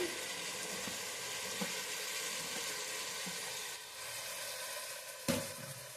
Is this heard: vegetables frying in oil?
yes